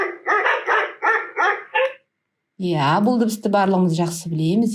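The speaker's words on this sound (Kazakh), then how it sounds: "Әрине, үрген иттің дыбысы екен." A dog barks close by in a quick series of about six sharp barks, then someone speaks after a brief pause.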